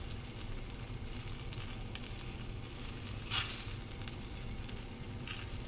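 Shrimp for shrimp scampi fry in a hot pan with a steady, fairly soft sizzle and one brief louder hiss midway.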